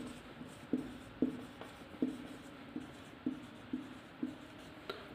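A pen writes notes on paper close by, making a series of short, soft scratching strokes in an irregular rhythm against a quiet room hum.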